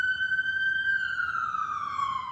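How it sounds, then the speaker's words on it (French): Emergency vehicle siren on a New York street, a single long wailing tone sliding slowly downward, loud and close over low traffic rumble. "Quand on entend une sirène, on se dit tout de suite c'est un corps, c'est quelqu'un qui part à l'hôpital"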